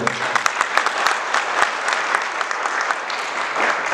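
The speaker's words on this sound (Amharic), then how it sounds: "ለላይፍ ታይም አንድ ሞቅ ያለ ጭብጨባ።" An audience at a wedding applauds, steady dense clapping with sharp individual claps standing out, loud and continuous.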